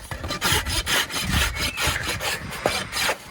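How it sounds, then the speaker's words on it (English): A farrier's rasp files back a horse's hoof in quick repeated rough strokes, close and loud, steady rhythmic rasping with no voices. "with my rasp, I'm going to bring this back"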